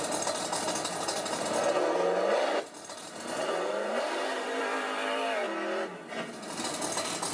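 Whiny engine sound from an RC rat rod car's sound module, rising and falling in pitch, revving up in a few bursts with brief dips between, steady and fairly loud with no talking.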